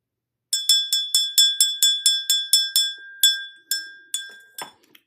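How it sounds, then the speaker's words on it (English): A small bell is struck about a dozen times in a quick, even rhythm, each bright ring decaying briefly, the last few strikes slowing and fading, close and alone. "I gotta ring this bell."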